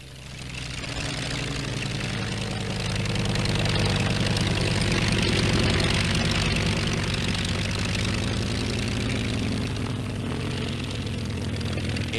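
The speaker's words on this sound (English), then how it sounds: "a stripped-down model of a new helicopter has been showing its extraordinary handiness in flight" A Kaman K-190 helicopter in flight gives a loud, continuous rotor and engine roar that swells and holds steady for several seconds, with no talking over it.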